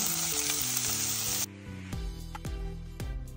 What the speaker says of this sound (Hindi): तितून 2 चमचे तेल घालून घेता, तिखयेचे पान आणि बारीक चिरलेलो कांदो